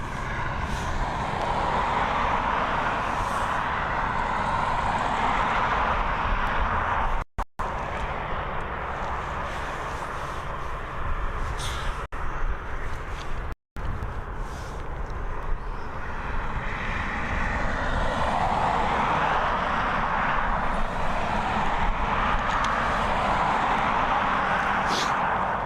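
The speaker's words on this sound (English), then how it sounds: "Looks like our next departure is going to be an ATR 72-600 heading over to Glasgow. Again operated by Aer Lingus" An Aer Lingus ATR 72-600 turboprop departs Dublin Airport for Glasgow, its engine roar heard from a distance as a sustained broadband drone that swells toward the end.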